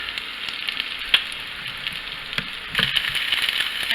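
Sausage slices and tofu brown in a frying pan over lowered heat. A close, steady sizzle runs throughout, with spattering crackles that grow busier near the end, and no voices.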